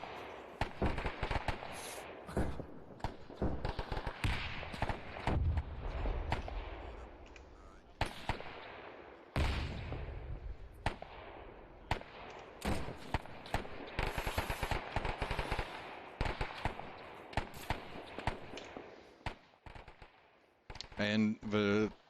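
WW2-era gunfire in a night battle in ArmA 3: near-continuous loud machine-gun bursts and single rifle shots crackle for the whole stretch, dense and overlapping, with brief lulls between volleys.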